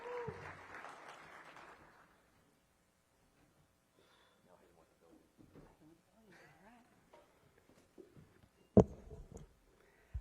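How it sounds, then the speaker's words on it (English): Audience applause at a DC mayoral event fades out quickly at the start, leaving near-silence broken by faint, scattered voices and a sharp knock near the end. "Let's give her a round of applause."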